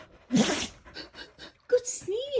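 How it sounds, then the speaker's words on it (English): A dog named as Brady gives a sharp sneeze up close, followed by a person talking to it. "Good sneeze, Brady."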